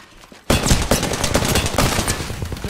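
Rapid automatic gunfire erupts in the Apex Legends video game after a quiet start, a loud, dense burst of shots that keeps going to the end.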